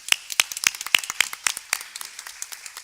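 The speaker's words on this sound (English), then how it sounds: "Let's give them all a round of applause" A city council candidates forum audience claps in a short burst of scattered applause. The claps are sharp and fairly close and thin out toward the end.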